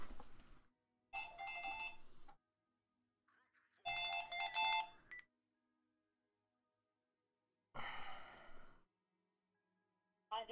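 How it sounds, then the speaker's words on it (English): Automated telephone message tones sound in several separate bursts of bright, harmonic electronic chimes, each lasting about a second, with silent gaps between them and a breathy burst near the end. "Automated phone messages, hilarious."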